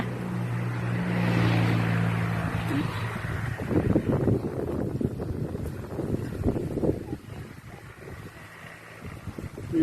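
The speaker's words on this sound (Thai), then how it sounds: "ลมก็แรง ลมก็แรง" Strong wind gusts buffet the microphone around an outdoor campfire, a broad steady roar with a low drone early on, loud and continuous for the whole stretch.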